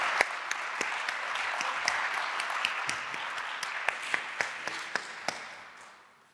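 Audience applause in a lecture or conversation hall after a professor's talk: a dense, steady wash of clapping with sharper individual claps poking through, sustained for several seconds before fading out at the end.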